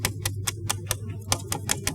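Foley imitation of a dog's paws scratching, made with a glove and paper clips, producing a rapid regular series of about a dozen sharp clicking taps, close and alone over a low hum.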